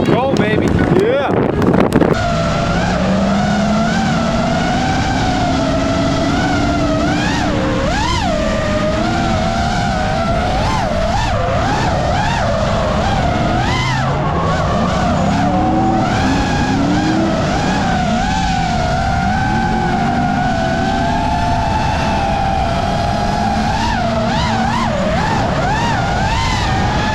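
Drift cars slide around a race track with long wailing engine revs and tire squeal, loud and continuous amid wind buffeting, while a commentator talks over the action.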